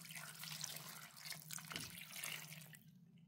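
Water being poured from a pot or tap into a Ugandan goat meat stew pot, a continuous close splashing trickle that runs for a few seconds before stopping.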